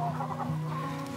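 Chickens cluck softly and steadily nearby in a brief burst of low, murmuring calls.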